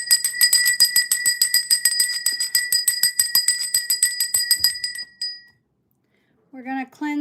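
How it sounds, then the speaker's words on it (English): A sound bar rings in a fast, steady run of bright metallic strikes with a shimmering sustain, then stops. A brief voice follows after a short silence. "We're going to cleanse the air with the sound bar as well as the bell."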